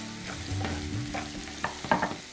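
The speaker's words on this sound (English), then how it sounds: "you want the onions to cook down till they are golden and toasty" Onions and spices fry in a pan for chana shimla masala with Indian chickpeas and bell peppers, a soft sizzle broken by spoon scrapes and stirring clatters that get sharper and louder toward the end, with no talking.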